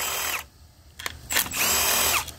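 Power tool spinning off 13 mm valve body cover studs on a Ford 8F35 eight-speed transmission, two loud whirring bursts separated by a short pause and a few clicks, close up with no talk.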